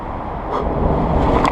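A TECHLIFE X7 electric scooter running its dual motors at full power gives a steady, loud broadband rush with rumble and wind noise that swells slightly partway through, with no talk.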